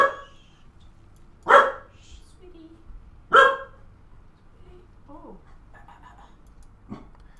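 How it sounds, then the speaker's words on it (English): A dog barks in the room during a Love vs CatZ match cast: two sharp, loud barks a couple of seconds apart, then a few softer yips and whimpers, with no talk over them. "And I've got a barking dog."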